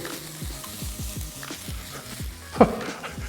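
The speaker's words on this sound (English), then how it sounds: "Can hear that sizzling already" Thai green curry sizzles in a pan with a soft, continuous hiss while a utensil stirs and scrapes through it in quick repeated strokes, capped by one louder clatter near the end.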